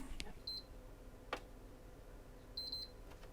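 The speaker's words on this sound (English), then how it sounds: "Oh, that gave me a double beep that time." A broken game console with no display gives short, high electronic beeps, a brief one early and then a quick double beep near the end, faint against a quiet room with small handling clicks.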